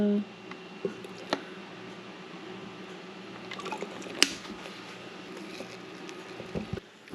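Water goes into a homemade sourdough starter of flour and water, heard close and quiet as scattered drips, splashes and wet squelches with a few sharp clicks.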